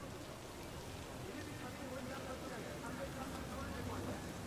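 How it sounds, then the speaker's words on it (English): Steady rain falls in the Cyberpunk 2077 video game as a soft, continuous hiss, faint and even throughout, with a voice speaking over it. "Can we get out of the rain, please?"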